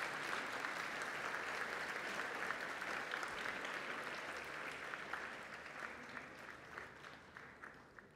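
Applause from a school audience at a Catholic college assembly, a steady dense wash of clapping that holds for several seconds and gradually thins toward the end, moderately distant with no talk over it.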